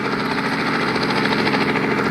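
A helicopter engine in the video game Indian Theft Auto gives a loud, continuous whirring drone with a pulsing rotor beat, with no speech.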